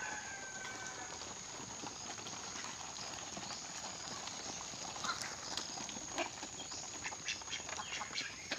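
A flock of month-old ducklings quacks repeatedly, soft and fairly distant, in a steady outdoor chatter that grows busier toward the end.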